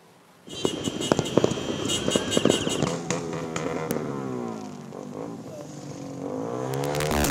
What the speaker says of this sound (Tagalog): Mga sasakyang nagsisibusina, mga motor na maiingay, sinabayan pa ng mga makukulay at maiingay na paputok.